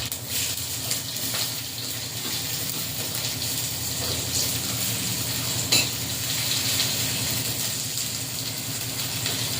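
Onion and ginger sizzle in hot oil in a wok, a moderate, even crackle with faint stirring clinks, close by and without any talk.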